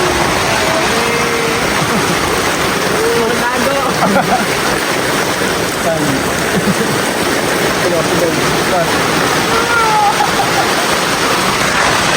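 Steady rain falls during a mountain hike on Linantao Peak, a dense continuous hiss close around, with people talking faintly over it.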